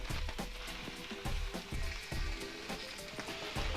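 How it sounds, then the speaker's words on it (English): Quinoa and lamb fry in a sizzling pan while being stirred, a dense crackling hiss broken by rhythmic scrapes of the spoon, close and fairly loud. "So give that a little stir"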